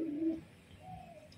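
A female pigeon gives a brief, close, low coo, followed by a quieter second note.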